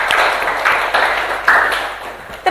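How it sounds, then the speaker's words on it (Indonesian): Crowd applause for student leadership candidates at the end of a university debate event, a continuous wash of clapping that holds steady and fades slightly toward the end. "Beri tepuk tangan kepada calon ketua BLM FT Unsika."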